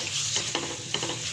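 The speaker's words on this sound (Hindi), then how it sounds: "इनको अच्छी तरह से हम फ्राई कर लेंगे।" Spices with red chilli powder, salt and cumin frying in a pan for a spicy potato dish, a close, soft sizzle with a few light stirring scrapes of a spoon against the pan.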